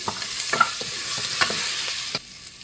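Whole cumin seeds and garlic fry in oil in a pan, giving a steady close sizzle with spoon scrapes and stirring clicks scattered throughout.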